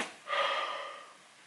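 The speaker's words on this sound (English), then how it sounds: "Wow, that was a big yawn." A single big human yawn, a drawn-out breathy exhale that swells quickly and then fades slowly, close and fairly soft, with no talking.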